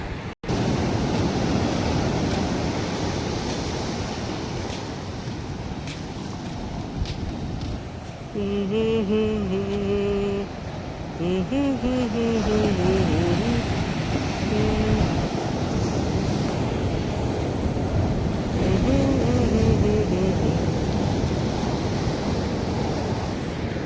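Sea waves wash onto a beach in a continuous, steady surf roar with wind buffeting the microphone, and a few faint tonal calls rise briefly above the noise midway.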